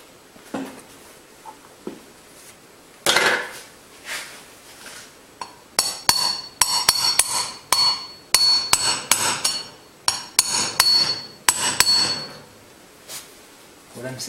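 A hammer strikes metal repeatedly while seating a front wheel bearing on a Suzuki Jimny, the sharp ringing blows coming in irregular bursts, close and loud, after a few scattered taps.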